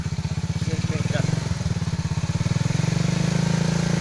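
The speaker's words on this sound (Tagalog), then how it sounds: "At matining na rin yung kanyang makina." A Rusi 100 motorcycle engine idles with a steady fast putter and rises briefly in revs, close and loud, with someone talking over it.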